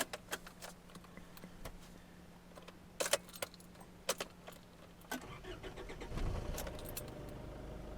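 Keys jangle and click sharply in the ignition of a car that has just come out of limp mode, followed by the engine cranking and catching into a low rumbling idle, heard close from inside the vehicle.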